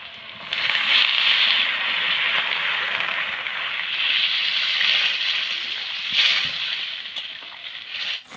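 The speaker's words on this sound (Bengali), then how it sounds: "এবার দিয়ে দিব স্বাদ মতো ঝোল" Broth poured into chicken browning in a hot pan sets off a loud, close, steady hiss that swells briefly near the end.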